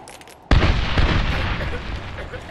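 A grenade detonates in the 2010 Medal of Honor game, one sudden loud close blast with a sharp onset that rolls into a long rumbling tail and fades slowly.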